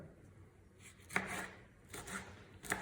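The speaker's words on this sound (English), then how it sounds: "you keep on chopping your tomatoes in small square" A cheap serrated knife chops tomatoes into small squares with soft, quiet cuts, three distinct strokes spaced about a second apart.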